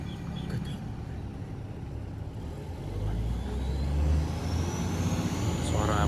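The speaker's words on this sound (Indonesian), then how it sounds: "Suara mesinnya tuh." Low diesel engine rumble of a vintage CC 203 locomotive in Indonesia, idling and building in strength, with a faint high whine rising over it; no one speaks.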